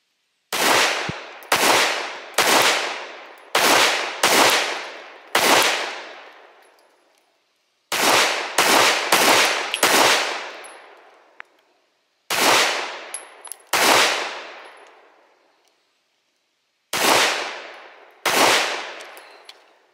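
Springfield Hellcat Pro pistol fitted with a Strike Industries compensator and a DPM recoil reduction spring, fired outdoors in quick strings of two to six loud, sharp shots, each with a ringing tail and pauses between strings.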